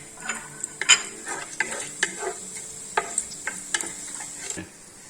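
Cashews and raisins fry in ghee for a no-onion chicken biryani, making a soft sizzle with a run of sharp, evenly spaced utensil taps and scrapes against the pan, close and fairly quiet.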